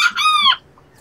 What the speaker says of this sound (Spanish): Está bien bonito ese gallito, bien pequeñito de tamaño.